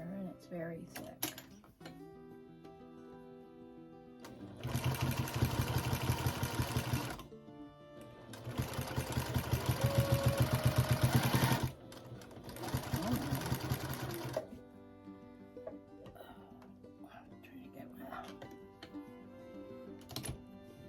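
A sewing machine fitted with a walking foot stitches through a thick, batting-filled rag quilt in three sustained rapid whirring runs, with quieter handling pauses between them and no talking during the stitching.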